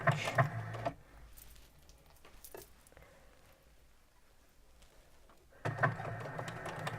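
A sewing machine back stitches along a sleeve cuff in two loud bursts of rapid stitching at the start and the end, with a quieter stretch of faint handling noises between them.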